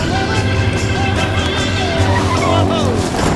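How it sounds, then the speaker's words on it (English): A Harley-Davidson Dyna Switchback rumbles along a Florida highway at steady speed, with a loud engine drone mixed with rushing wind noise throughout. "I am on the wide open highway on a Harley"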